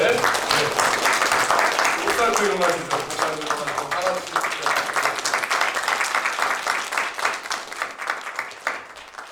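Applause from a church congregation at a Sunday service in Korea, welcoming a visiting missionary pastor and his wife; steady dense clapping fills the room from the start and slowly thins, while someone speaks over it.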